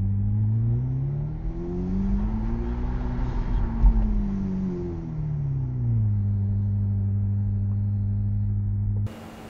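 A Ferrari SF90 Stradale on a test drive, its engine drone rising in pitch, easing off and settling into a steady hum from inside the car, loud and constant with no talk, ending abruptly.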